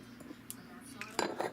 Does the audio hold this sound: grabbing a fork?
yes